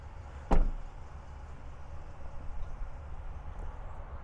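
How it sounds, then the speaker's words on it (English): Power running boards on a 2020 Ram 1500 Longhorn eTorque crew cab pickup deploy with one sharp, loud mechanical clunk near the start, then a low steady outdoor rumble with no talk. "when you open up any of the doors, power running boards will flip right out"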